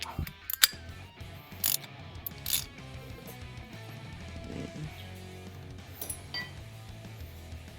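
Metallic ratcheting and clinking from a wrench turning a bolt during front end repair on a 2007 Chevy 1500, a few sharp ticks early on over a steady low workshop hum, moderately close.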